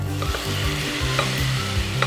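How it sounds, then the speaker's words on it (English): A ground coconut, jeera and green chili mixture is stirred into softened frying onions, producing a continuous close sizzle with soft scraping stir strokes and no voices. "I'm going to add in the ground coconut and jeera mixture with green chilies. Give it a stir"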